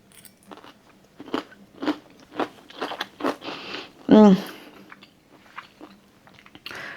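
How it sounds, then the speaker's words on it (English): Repeated crisp crunches of chewing lacto-fermented cauliflower, close to the mouth, in an uneven rhythm with a louder bite midway, quiet pauses between. "The lacto-fermented cauliflower, I'm excited to share how it tastes with you."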